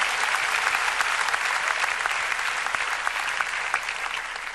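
A worship congregation claps together in a steady, dense roar of many hands that runs unbroken for several seconds, with no one speaking over it.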